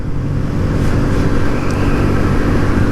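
A 2023 Kawasaki Z125 motorcycle engine drones steadily at around 6,000 RPM while riding down a road, a loud, close, continuous hum with wind noise and no voices.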